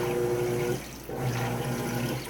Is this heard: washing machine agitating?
yes